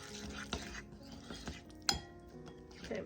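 Melted coconut oil fudge mixture being stirred in a bowl, with several spoon clinks against the bowl and scraping strokes at an irregular pace, close and fairly quiet.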